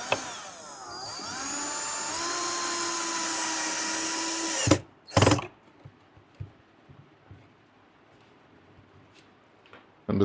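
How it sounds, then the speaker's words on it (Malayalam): A power screwdriver whirs steadily for several seconds while tightening screws into a speaker box. The motor pitch sweeps as it runs, then gives a couple of sharp stops and clacks, followed by scattered handling taps. "രണ്ട് സ്ക്രൂ മുറുകി."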